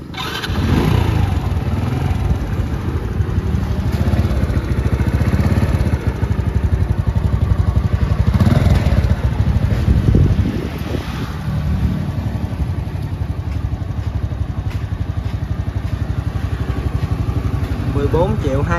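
A Honda Cub motorcycle engine running close by with a steady, smooth mid-pitched hum that holds for the full length and dips slightly partway through, with a person talking over it.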